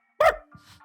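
A person imitates a dog barking like the cartoon dog Pluto, giving one sharp close-up vocal bark followed by a quieter trailing growl-like sound.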